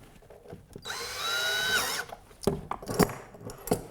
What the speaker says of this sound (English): put the last screw in on this end